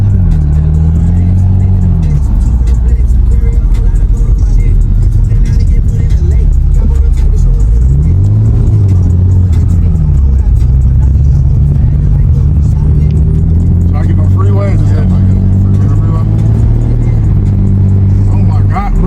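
A 700-horsepower G80 car drives and accelerates, its engine droning loud and close with rising and falling pitch as it revs. Someone talks excitedly over the engine throughout.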